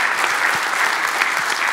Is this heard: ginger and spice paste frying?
no